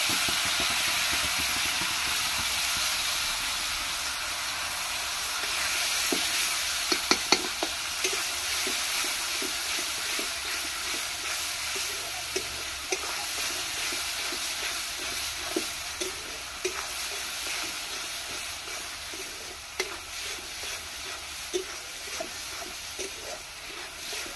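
Onion paste hisses steadily in a hot pan for a Bengali prawn malaikari, a constant broad sizzle with small scraping stirs and occasional pops throughout, close and unbroken by speech.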